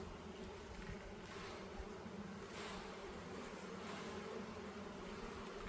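Honey bees buzz in a steady, dense drone during a hive inspection, close and continuous, with soft swells as frames are handled and shaken.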